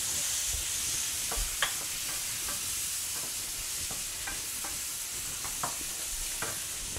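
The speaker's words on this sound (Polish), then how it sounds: "Adam, troszeczkę podnieść temperaturę, żeby ci się te polędwiczki smażyły, a nie gotowały, dobra?" Pork tenderloins frying in oil in a pan, a continuous close sizzle with occasional clicks and scrapes of stirring.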